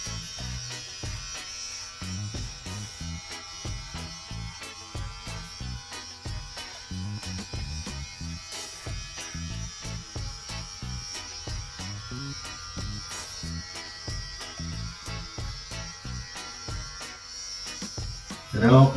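YiLFo electric hair clippers buzz steadily and close-up while cutting hair during a Viking-style home haircut, the motor hum continuing through the whole stretch with brief louder bursts near the end.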